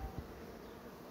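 Honeybees drone around a hive in a short, steady buzz, a soft continuous hum with no voices.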